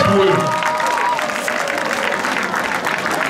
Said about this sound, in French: applaudissez pour eux